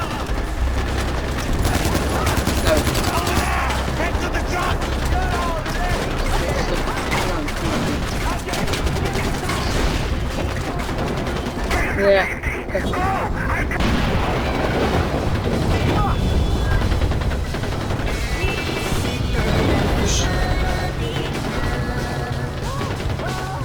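Gunfire in the video game Far Cry 4: a dense, loud, continuous barrage of shots and impacts that fills the whole stretch, with speech mixed in.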